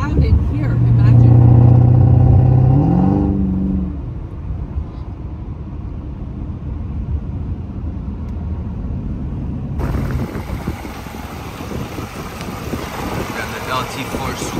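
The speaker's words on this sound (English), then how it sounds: "Got the LT4 supercharged." A supercharged LT4 V8 car engine idles loudly with a deep, steady rumble, swelling in the opening seconds before settling into a continuous low drone, while people talk over it.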